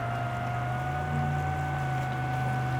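A speedboat out on the water, heard from a DJI FPV drone flying alongside, gives a steady droning engine hum. The hum holds at a fairly even loudness and rises slightly midway, with no talk over it.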